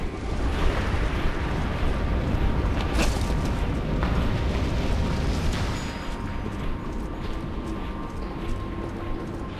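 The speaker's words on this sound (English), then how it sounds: "Those flare-ups will cook you alive." Fiery flare-ups roar and burst in the video game Dungeon Siege III, a dense, loud rumbling eruption with a few sharper pops, continuous throughout and fading slightly toward the end.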